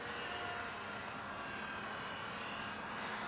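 A Parkzone Ultra Micro T-28 model airplane flies overhead, heard only as a faint, steady, airy motor whine with a hiss of wind, unbroken for the whole stretch and with no voices.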